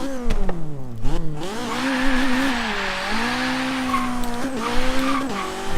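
A BMW M3 E30 in Forza Horizon 3 revs hard with rising and falling engine pitch through gear changes, with tires squealing and skidding, loud and close with no talk.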